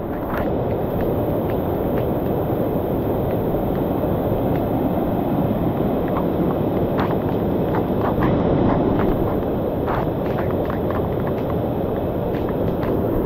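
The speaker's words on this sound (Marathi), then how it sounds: "किती मोठ्या प्रमाणात पाऊस आहे ते बघा." Heavy monsoon rain pours steadily through dense forest on the Peb Fort trek, a loud, continuous broadband roar with scattered sharper drops and patters close by, no voices present.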